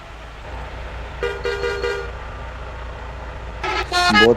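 A truck horn in a bus simulator game honks in two bursts, a short series of quick toots followed by a longer, louder blast at the end, over a steady low engine hum.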